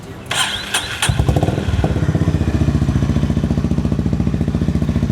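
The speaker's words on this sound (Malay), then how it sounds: "So untuk motor ni saya nak dengar bunyi sikit boleh?" A classic Honda CB350R motorcycle engine cranks and starts after a few clicks, then settles into a loud, steady, thumping idle close by.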